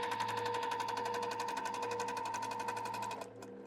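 A sewing machine stitches steadily through a quilt made from vintage nine-patch blocks, a fast even whirring hum running close and alone for about three seconds before it stops.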